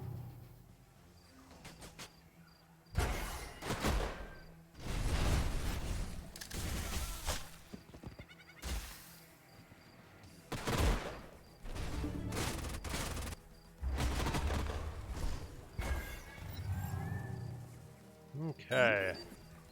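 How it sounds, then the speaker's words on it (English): Missile launchers firing in the sci-fi strategy game Age of Wonders Planetfall, a series of loud whooshing launches and blasts spread across the stretch, mixed with someone talking over them. "So, we can keep firing the missile launcher."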